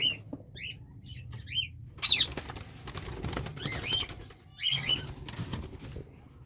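Pet lovebirds and Indian ringneck parakeets flap their wings in short fluttering bursts close by, mixed with high chirps and squeaks and rustling in the cage.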